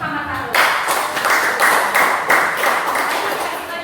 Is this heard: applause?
yes